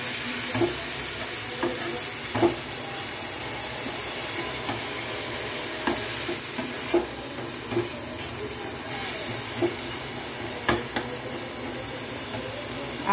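Mutton masala with leftover mutton stock fries steadily in a pan, a constant close sizzle and hiss broken by frequent sharp clicks and scrapes as the spoon stirs.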